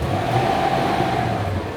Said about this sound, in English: Just listen to how quiet that engine is.